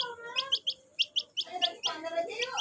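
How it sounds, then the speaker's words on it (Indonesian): Small birds chirp in quick repeated bursts of high, sharp tweets, close and fairly loud, layered over softer warbling calls and faint background murmur. "Wah, burung nih."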